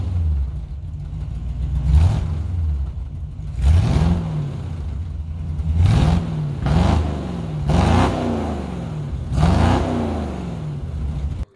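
A truck engine starts after exhaust repair work with welded pipes and new hangers, then revs in about six loud, close bursts, each rising and falling over a steady idle rumble.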